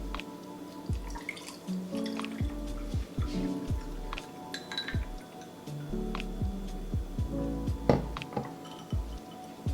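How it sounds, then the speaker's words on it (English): Cold brew coffee is poured into a glass holding ice, giving soft trickling and dripping with scattered clinks of ice cubes against glass, close and fairly quiet, with no talking. "And then you just pour yourself a glass of cold brew."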